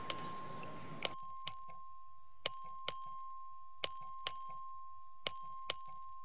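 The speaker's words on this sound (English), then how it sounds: "The clerk will ring the bell." A bright electronic bell rung in a legislative chamber to call a vote dings repeatedly in uneven pairs and singles, each strike ringing out briefly over a steady faint tone.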